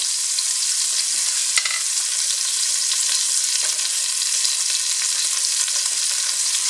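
Browned pork sizzles loudly and evenly in a hot pan while aromatics are added and stirred, with faint scrapes from the spatula over the constant crackle.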